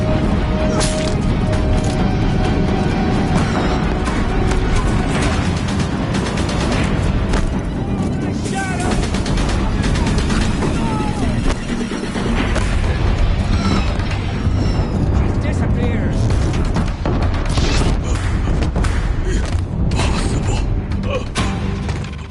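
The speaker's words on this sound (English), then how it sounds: "If the Death Slayers keep firing, this bridge will go." Death Slayer machines pound a bridge in Horizon Zero Dawn, a constant heavy wash of booms, crashes and creaking mechanical noise, loud and dense throughout, with voices speaking over it.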